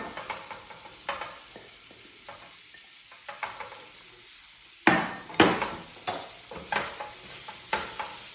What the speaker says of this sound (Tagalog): Mix ko siya ng konti. Ngayon, i-add ko na itong potato.